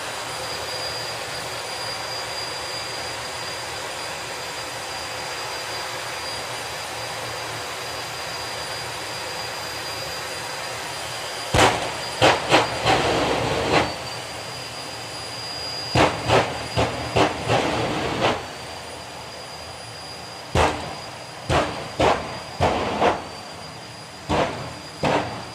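A jet dragster's thrust roars at a drag racing event, a steady loud rushing hiss with a high whine, followed by a run of sharp bursts and pops as the thrust is wound up.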